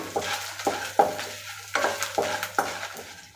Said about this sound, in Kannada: ಈಗ ಬ್ಯಾಡಿಗೆ ಮೆಣಸಿನ್ಕಾಯಿ ಹಾಕ್ಕೊಳ್ತಾ ಇದ್ದೀನಿ ಇದೆಲ್ಲ ಒಂದು ಐದು ನಿಮಿಷ ಫ್ರೈ ಮಾಡ್ಕೊಳ್ಳೋಣ ಮೀಡಿಯಮ್ ಫ್ಲೇಮಲ್ಲಿ